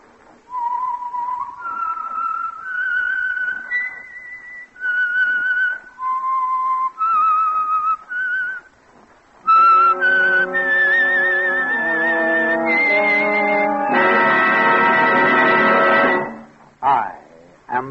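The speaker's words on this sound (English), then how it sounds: "the signal to listen for is this whistle that identifies the Signal Oil program" A whistled signature tune for the Signal Oil radio program The Whistler, a slow melodic line of clear sustained notes, followed by a fuller orchestral swell with the whistled melody, loud and close with no talking.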